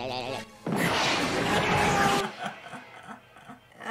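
Glass being smashed during a bank scene in the 1994 film The Mask, a sudden loud crash with a bright burst of scattering shards lasting over a second, followed by quieter rattling, with voices before and after.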